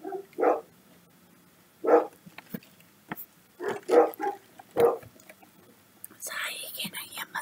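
Dogs bark in short, separate yaps indoors, about five of them spread over several seconds, fairly soft, with quiet murmured voices in between.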